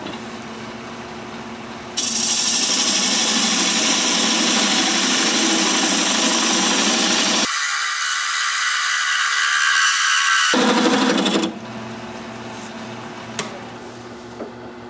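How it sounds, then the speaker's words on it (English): A parting tool cuts across a chestnut wood blank spinning on a lathe, squaring off the bottom; a loud, steady broadband scraping hiss runs for about nine seconds, with a brief shift partway through, before the lathe hum continues alone. "I'm just going to use a parting tool to square it up."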